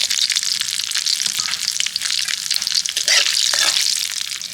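A bay leaf, whole cumin and whole garam masala spluttering in hot oil as a tempering: a close, dense crackling sizzle with quick pops and occasional stirring scrapes throughout.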